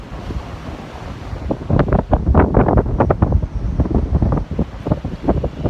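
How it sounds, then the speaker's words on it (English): Strong wind blows outdoors in open nature, roaring and buffeting the microphone in loud, uneven gusts that swell and ease throughout, with a low rumble that may include surf. "wind is coming strongly"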